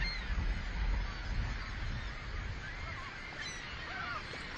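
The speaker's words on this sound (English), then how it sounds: "Millions of birds in flocks so enormous they blanket the sky on radar images." A large flock of migrating birds, bound for wintering grounds in Cuba and the Caribbean from as far north as New England and Canada, calls continuously. Dense, overlapping goose-like honks blend into a steady wash of noise with no talking.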